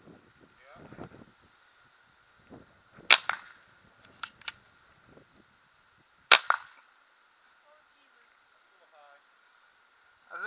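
A DSG airsoft shotgun fired outdoors during a field test: a couple of sharp, loud cracks several seconds apart, each followed by short rattles, with people talking softly in between.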